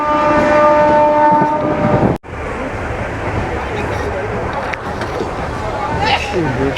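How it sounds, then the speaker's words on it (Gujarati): The Saurashtra Janata Express rumbles and clatters along the tracks, loud and close, heard from beside the door in the general coach, with a horn-like tonal drone at first and voices murmuring underneath. "હવે આપણી ટ્રેન ચાલુ થઈ ગઈ છે"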